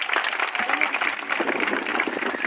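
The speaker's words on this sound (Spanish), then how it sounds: "Un aplauso para el gobernador Jorge Pérez, por favor." A crowd at a ceremony in Pacora, where the district municipality received heavy machinery from the regional government, applauds the governor with a thick, continuous wash of clapping that holds steady for several seconds.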